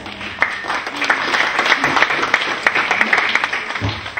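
Audience applause fills a conference hall at the close of a long day, a steady dense patter of many hands clapping throughout, fairly near and even, with no talk over it.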